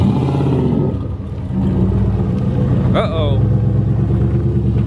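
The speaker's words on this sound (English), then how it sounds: "Don't miss these burnouts" A turbocharged 1967 Chevelle on 24-inch wheels revs hard through burnouts, its engine drone loud and continuous, with a short dip near the start and a person speaking briefly over it.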